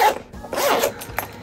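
A zipper on a Shein bag is pulled in short, close, loud rasping strokes, two or three quick runs in a row.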